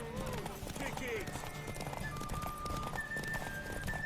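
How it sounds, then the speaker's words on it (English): A horse gallops in The Witcher 3, its hooves drumming in quick, continuous clip-clop close by. A whinny rises early on, and voices talk over the hoofbeats. "Don't exhaust the horse too soon."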